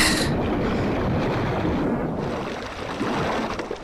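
A boat sinks in the video game GTA 3, heard as a loud, steady rushing wash of water and wind-like roar that eases slightly toward the end, with no talking.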